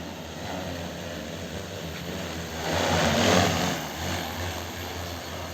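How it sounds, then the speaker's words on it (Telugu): An agricultural spraying drone works over crop fields, its propeller whine droning steadily and swelling loudest midway as it passes close, then easing off. "మా ఊర్లోనైతే డ్రోన్లతో కొట్టిస్తున్నాం."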